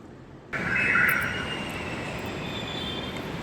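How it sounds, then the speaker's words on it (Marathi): A metro train runs along, its steady rumble rising suddenly after a quiet start, with a brief high squeal early on and a constant hum beneath. "आता हे मेट्रोनी चालले."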